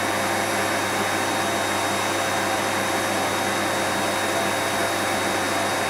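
A wind-tunnel air blower runs steadily, driving a Darrieus vertical-axis wind rotor; a constant broadband rushing roar with a faint hum holds at even loudness throughout, with no talking.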